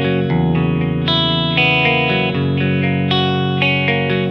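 Sustained electric guitar chords through a VOX Adio Air GT amp's delay effect, notes echoing and overlapping as the tone shifts every second or so; no voices.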